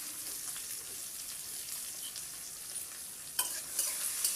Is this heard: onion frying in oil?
yes